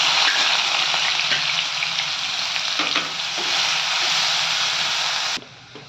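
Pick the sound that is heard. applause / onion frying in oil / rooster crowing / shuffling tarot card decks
onion frying in oil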